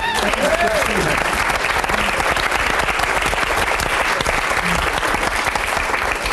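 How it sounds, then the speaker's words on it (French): Studio audience on a French TV talk show bursts into sustained, loud applause that holds steady throughout, dense clapping with a few voices briefly audible underneath. "Allez, on l'applaudit même."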